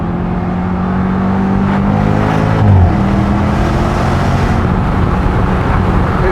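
A Jaguar F-Type SVR convertible accelerating hard, its engine note climbing through rising pitch, dropping with a gear change near the middle, then pulling again amid loud wind and road roar.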